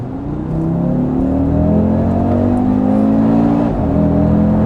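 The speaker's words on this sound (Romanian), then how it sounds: "Modul RS, aici deja ți-o țin mai turată, vezi?" A car engine in RS drive mode revs loudly and continuously nearby, its droning pitch rising steadily before a brief dip and recovery near the end.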